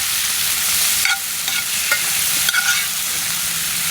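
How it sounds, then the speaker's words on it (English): Onions and garlic fry over a wood gas stove with a steady, hissing sizzle. A few soft scrapes and taps come from stirring, and no one speaks. "These onions are starting to cook down."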